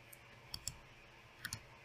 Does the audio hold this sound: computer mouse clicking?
yes